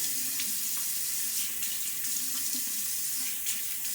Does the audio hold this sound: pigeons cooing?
no